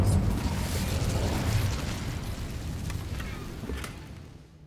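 A Bombarda spell detonates in the Hogwarts Legacy video game, a loud broadband blast that rolls into a sustained rumbling, crackling wash and slowly fades out.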